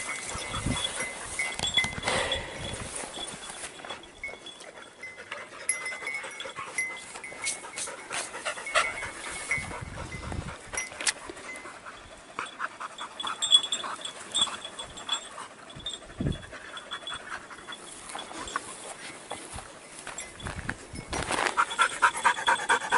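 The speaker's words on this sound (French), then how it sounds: "c'est bien mon chien" A boar- and deer-hunting dog pants steadily and quickly up close. The rapid breaths continue for a long stretch, with rustling and handling noises mixed in.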